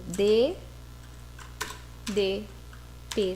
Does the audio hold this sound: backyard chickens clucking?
no